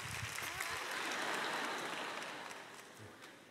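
Faint applause from a crowd at a Korean summer camp gathering, a soft continuous patter of clapping that swells slightly then fades out, with a few low murmurs underneath.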